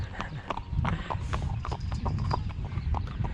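A horse is ridden along the sea, its hooves clip-clopping in a quick, uneven rhythm close by for the whole stretch, with no speech over it.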